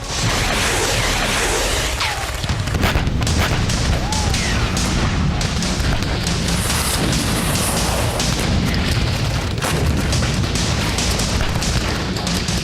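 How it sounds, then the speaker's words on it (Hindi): Machine gun and artillery fire in the war between Armenia and Azerbaijan over Nagorno-Karabakh, a loud, dense, continuous roar of bursts and booms with little pause. "ताबड़तोड़ गोलियां बरसाती मशीन गन"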